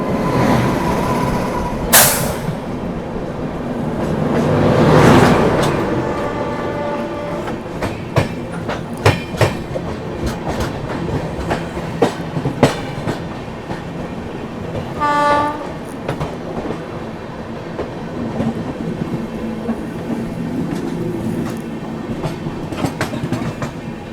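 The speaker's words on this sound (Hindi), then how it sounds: "सामने से आ रही है तिरुवनंतपुरम शालीमार सुपरफास्ट एक्सप्रेस" The Thiruvananthapuram–Shalimar Superfast Express passes by on the line near the Brahmani River, with steady wheel clatter and rattling coaches and one sharp horn blast partway through, and no voices.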